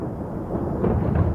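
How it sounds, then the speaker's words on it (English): Low, rolling thunder from an approaching storm at a campsite, a deep rumble that swells louder toward the end, with no voices. "We have thunder back here."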